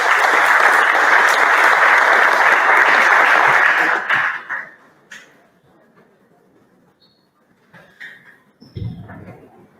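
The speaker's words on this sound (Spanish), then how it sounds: "Saludamos con un caluroso saludo y con un aplauso a nuestros invitados" Loud, sustained applause from an audience at a bilingual education forum welcomes invited guests from a school. The dense clapping fills the first four seconds, then dies away into near silence with a few faint scattered noises.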